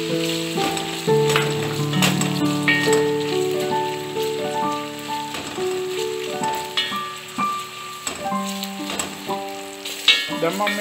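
Onions are tempered in a pan for pumpkin soup, giving a steady crackling sizzle beneath louder melodic background music that plays throughout.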